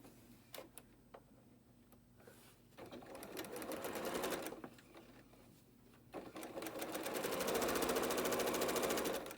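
A sewing machine stitches a maple leaf quilt block, its needle running in short bursts with pauses, then a long steady run near the end, close and moderately loud.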